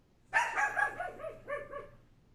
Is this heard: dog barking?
yes